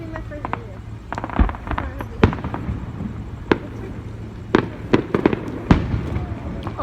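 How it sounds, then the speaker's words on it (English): Fourth of July fireworks burst over Palm Springs in a full show, sharp distant bangs and crackles coming irregularly in clusters, with people talking nearby between the explosions. "these fireworks are in Palm Springs. They have really nice fireworks."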